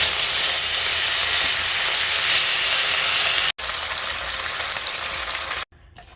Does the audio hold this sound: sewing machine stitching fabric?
no